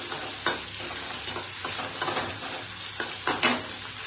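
Chopped tomatoes added to a hot pan for a paneer curry, frying with a continuous loud sizzle while a utensil stirs and scrapes against the pan in repeated strokes.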